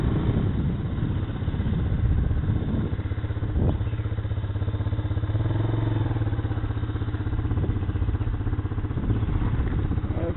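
A Honda CB400 motorcycle engine runs steadily at idle with a low, uneven rumble and some mechanical clatter, close by outdoors on a residential street, with no talking.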